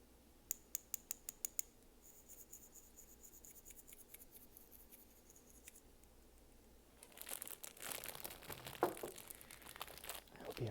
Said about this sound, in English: I hope you enjoyed the crinkling